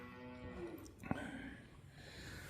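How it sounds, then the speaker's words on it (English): Two cows, one pregnant and one with a calf, fighting in a barn: a drawn-out low moo, then a sharp thump and further lowing, fairly close. "2 cows decided they're going to fight."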